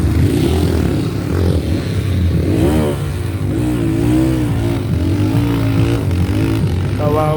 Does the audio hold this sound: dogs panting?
no